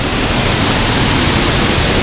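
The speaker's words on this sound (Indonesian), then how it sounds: "Nah itu dia air terjun pertama dari aliran air terjun Hiu Pitu." The Hiu Pitu waterfall rushes in a loud, dense, unbroken roar of falling water, heard close up and alone.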